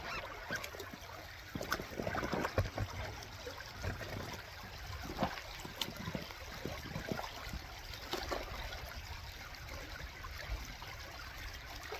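Water runs through a sluice box set in a Wisconsin glacial creek, a faint, steady trickle and wash with a few soft splashes, heard alone at low level.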